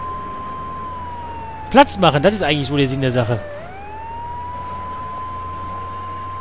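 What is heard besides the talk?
police siren from the video game GTA 3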